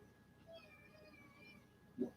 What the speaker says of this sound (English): You got a scratchy meow.